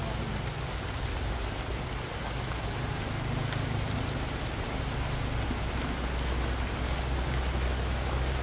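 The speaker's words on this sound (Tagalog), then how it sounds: "Nalakas na po ulit ang ulan mga tsula." Heavy rain pours down steadily and loudly outdoors on a street, a dense continuous hiss with a low rumble beneath and no pauses.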